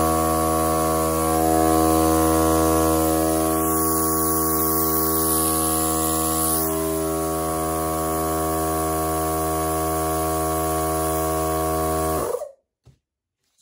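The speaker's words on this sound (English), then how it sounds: "So it sounds like a normal compressor." Milwaukee M18 cordless tire inflator set to 28 psi running steadily like a small compressor, a continuous loud motor hum with buzzing overtones that holds for about twelve seconds and then cuts off abruptly.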